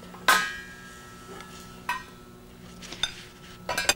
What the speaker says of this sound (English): So I'm just going to put a lid on this so the flavors are